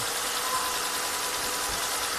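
A 3.6L Pentastar V6 in a Grand Caravan idles steadily, a dense, even engine hum with a broad noisy hiss and slight knocking texture, constant and close with no talking.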